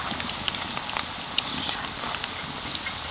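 Potatoes fry in hot oil in a home kitchen, a soft, steady sizzle scattered with small crackles and pops, close and fairly quiet.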